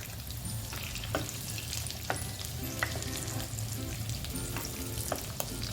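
Green chickpea kebab tikkis fry in hot oil, giving a steady close sizzle with scattered crackles and pops throughout, with no voices.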